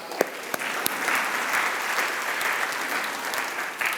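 A church congregation claps through a Resurrection Day service, a steady wash of applause from a crowd with a few sharper individual claps standing out near the start and end.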